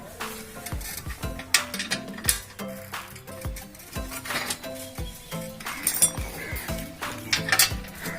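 A spanner taps the wheel nut of a bicycle during a chain repair, producing a quick run of sharp metallic clinks and knocks at close range against faint mechanical rattling.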